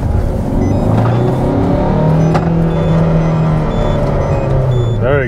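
A cheap, worn Citroen C4 Picasso accelerating with paddle-shift gear changes, a loud, steady engine drone heard from inside the car, with the pitch rising and settling through a gear change.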